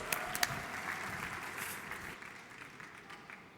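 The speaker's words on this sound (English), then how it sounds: "Aló, maestro, big applause." A startup conference audience applauds to welcome the next speaker on stage, a soft, distant wash of clapping with a couple of sharper claps near the start that slowly fades.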